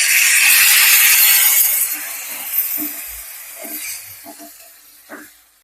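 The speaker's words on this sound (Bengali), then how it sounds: "এখানে আমি পরিমাণ মতো জল দিয়ে দিচ্ছি।" Water poured into hot frying masala for a prawn and pumpkin curry sets off a loud hissing sizzle that gradually dies down, followed by a few light clinks of a utensil against the pan.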